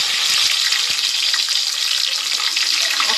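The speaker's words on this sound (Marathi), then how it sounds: "तेल ऑलरेडी गरम होतं. त्यामध्ये थोडासा कांदा टाकणार आहोत." A little onion hits already-hot oil for a veg paneer biryani, raising a loud, continuous, close sizzle with a couple of soft thuds at the start; no talking.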